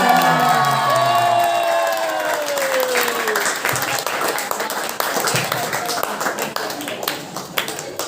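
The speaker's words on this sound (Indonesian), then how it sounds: "Tepuk tangan." An audience applauds at a children's preaching contest held during Ramadan 2022. Dense, sustained clapping with a few cheers fills the hall, and a voice rings out briefly over the start.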